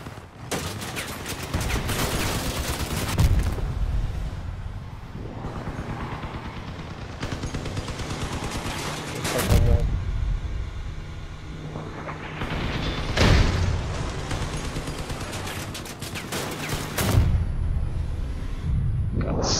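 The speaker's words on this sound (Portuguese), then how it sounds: "Pecou ele de tiro de canhão." Rapid bursts of gunfire and heavy cannon booms from a Crossout vehicle battle, loud and repeated in waves, with no talking.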